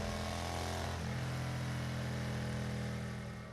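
A motorcycle engine runs loud and close, its steady drone shifting pitch as the bike pulls off and rides away, then fading slightly at the end, with no voices.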